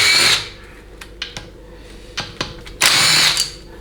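A power drill backing out 8mm speed sensor bolts on a 4L80E transmission during a teardown, two loud whirring bursts at the start and end with small clinks of metal between them.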